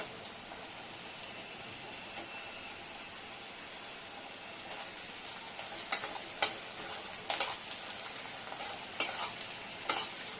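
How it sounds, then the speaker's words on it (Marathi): Spices and peanuts sizzle steadily in hot oil as tempering for upma, while a spoon scrapes and clinks against the pan in irregular strokes. "हलवत राहायचं. फोडणी जळून नाही द्यायची."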